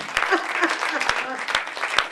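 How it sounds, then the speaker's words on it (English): An audience gives Maria Venuti a round of applause, a moderate patter of clapping with a few sharper claps standing out and a voice talking over it. "give me a round of applause"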